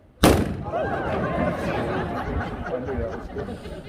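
A single sharp gunshot bursts out loud and close near the start, followed by a noisy saloon with overlapping voices and chatter continuing underneath.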